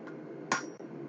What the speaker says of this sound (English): I have to be really careful and precise with my hammer blows